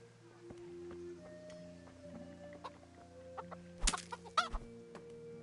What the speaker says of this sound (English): I should go punch those chickens.